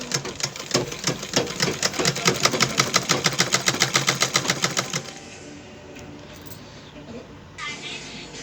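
A sewing machine stitches lace onto the border at the end of a saree, its rapid, even stitching pulses running steadily for about five seconds before stopping and leaving a quiet room hum.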